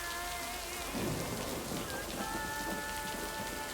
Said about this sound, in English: Especially since it's raining